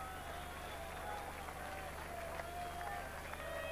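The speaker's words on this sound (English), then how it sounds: "The crowd have come alive." A rugby crowd at Bellevue, Wakefield, cheering and applauding in the rain for Wakefield Trinity against Australia, a steady, roaring wash of noise from a distant stand with a commentator's voice over it.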